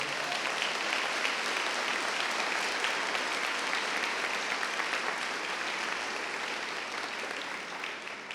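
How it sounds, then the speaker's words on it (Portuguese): A church congregation applauds during a sermon, a thick, steady wash of many hands clapping that stays loud and even for several seconds with no voices on top, tapering off only slightly at the end. "dê um aplauso bem forte ao Senhor"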